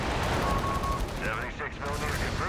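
Anti-tank guns firing in Company of Heroes 3 during a 4v4 battle with Axis armour, with dense gunfire and blasts packed together and some faint voice-like sounds mixed into the battle noise.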